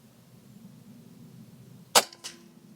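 A single sharp gunshot cracks out from a rifle fitted with a ONELEAF NV400 4K scope during daytime test-firing at a range, followed by a fainter echo or second report, over a low steady background hum.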